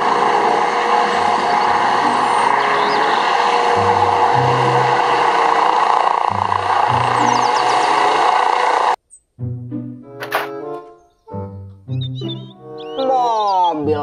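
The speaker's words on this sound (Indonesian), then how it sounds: "Helikopter." A toy helicopter gives off a loud, steady mechanical whir with a sustained tone for about nine seconds, then stops abruptly as a voice speaks.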